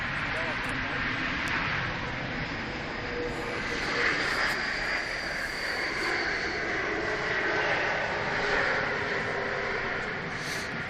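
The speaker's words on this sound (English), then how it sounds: "there's the Egypt Air decrabbing a few feet above the runway." Egypt Air airliner landing on the runway at Manchester Airport, a steady broad engine roar throughout with wind-like hiss, people talking over it.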